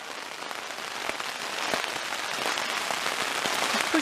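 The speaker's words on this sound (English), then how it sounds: "So much rain and hail." Heavy rain mixed with hail batters a tent in a dense, continuous roar, with sharper hailstone hits standing out now and then, close and loud with no talking.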